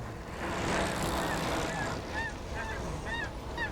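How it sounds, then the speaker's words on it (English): Geese honk repeatedly in short nasal calls, several overlapping in quick succession over a steady background rush. "Let's have those geese again, Sam."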